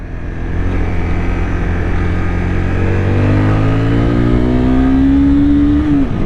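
A Honda CBR 250R motorcycle accelerates hard through a city roundabout and up into a hill, its engine note climbing steadily through the gears, loud and close, with no talking.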